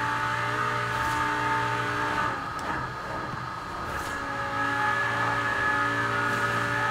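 A Lamborghini Huracan Performante engine in Forza Horizon 4 holds a loud, sustained revving tone with strong harmonics, briefly dipping before it climbs again.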